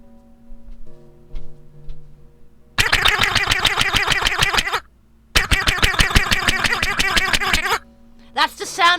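Hitting sound effect from the Milk Game video game: a dense, rapid rattle of repeated impacts in two long bursts with a short gap, loud and close, ending with a brief higher-pitched sound.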